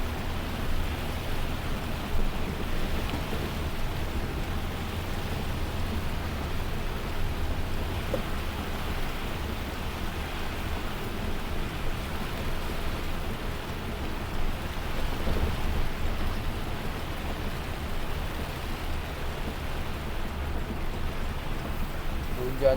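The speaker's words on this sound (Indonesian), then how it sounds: "Hujannya gede banget." Heavy rain drumming steadily on a car during a drive on the eastern Lampung highway toward Bakauheni, a dense continuous wash of noise with faint low rumbles throughout.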